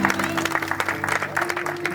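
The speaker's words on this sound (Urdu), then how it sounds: "تو اپنے ایکسائٹمنٹ کو ظاہر کریں تالی بجا کر" Wedding guests clap briefly at a church marriage ceremony, a short burst of scattered hand claps over a sustained musical hum, fairly faint and close.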